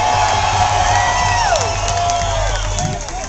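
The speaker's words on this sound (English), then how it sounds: "I'm rocking the crowd here, people, in my hometown of Los Angeles" A rally crowd in Los Angeles cheers and whoops loudly and continuously, the dense wash of shouts fading slightly toward the end.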